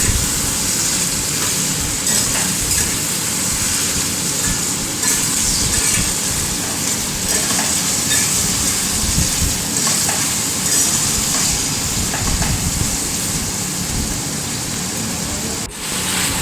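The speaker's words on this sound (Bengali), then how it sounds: "মাংসগুলো পেঁয়াজের সঙ্গে ভালোভাবে নেড়ে নিতে হবে এবং মাংসগুলো ভালোভাবে ভেজে নিতে হবে পেঁয়াজের সঙ্গে।" Chicken pieces frying with onions in a pan for chicken do pyaza, a steady loud sizzle with bursts of stirring running unbroken throughout, no voices.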